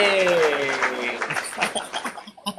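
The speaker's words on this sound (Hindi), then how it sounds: "हाँ, तालियां कर दें जरा" Audience clapping at a Christian gathering, starting under a voice and music tone, then thinning into scattered, uneven claps that taper off toward the end.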